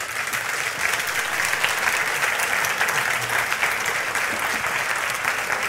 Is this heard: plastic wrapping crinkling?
no